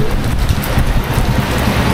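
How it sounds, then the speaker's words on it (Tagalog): Rain falling outdoors in northern Siargao during a typhoon, a dense, loud, continuous hiss of heavy downpour with no pauses and no voices. "Umulan po."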